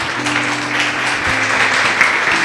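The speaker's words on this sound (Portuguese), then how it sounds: "Louve a Ele com suas palmas." A church congregation claps along in praise during a worship service, a steady wash of hand-clapping under sustained organ or keyboard chords and a low hum, continuous for the whole moment.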